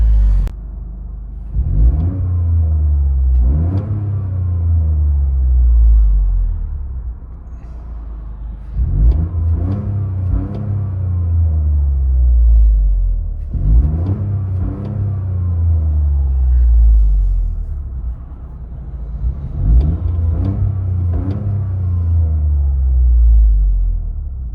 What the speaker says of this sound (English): Circuit Edition all-wheel drive turbo GR Toyota GRC 3-cylinder turbo pushing 300 horsepower